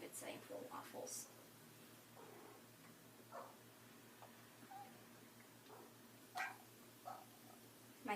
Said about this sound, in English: sorry for all the meowing.